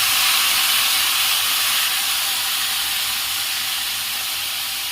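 Half a kilo of chopped tomatoes dropped into a hot pan for sweet tomato chutney, giving a steady, loud, broadband sizzle that holds evenly throughout with no voices.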